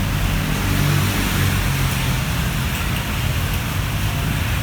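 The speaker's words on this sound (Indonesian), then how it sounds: "Hujan mulai turun." Rain begins falling around a boarding school compound, a dense, constant hiss of drops that stays loud and unbroken throughout, with no talking.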